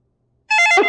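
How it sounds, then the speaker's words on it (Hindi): A telephone suddenly starts ringing at night, a loud, bright electronic tone that bursts in after a moment of silence. "ये बेवक्त किसका फोन आ गया?"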